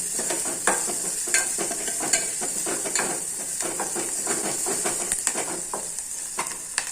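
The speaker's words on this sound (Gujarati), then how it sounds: "એ બંનેને તેલમાં ફેરવવાનું।" Garlic stirred and fried in hot oil over a low gas flame for a Gujarati leftover-roti dish, giving a steady close sizzle broken by repeated scraping clicks of the spoon against the pan, with no talking.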